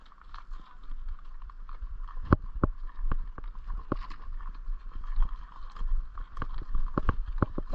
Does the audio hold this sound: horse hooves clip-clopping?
yes